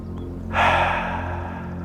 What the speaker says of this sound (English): Let's go and take some breaths in and out.